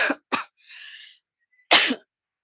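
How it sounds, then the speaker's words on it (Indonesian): Three short bursts of coughing close up, two quick coughs followed by a softer breathy exhale, then one more hard cough after a brief pause. "Maaf ya, lagi batuk juga."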